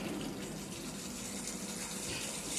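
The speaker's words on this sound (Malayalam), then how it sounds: "ഇച്ചിരിയൂടെ വെള്ളം ഒഴിക്കുകയാണ്." Water is poured into a pan of cooking pork, making a steady, continuous splashing stream at moderate volume with no interruption and no voices.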